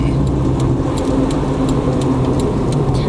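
Vehicles on a one-lane icy highway in Alaska pass with a constant loud engine and tire roar, with faint ticking clicks repeating over the steady drone.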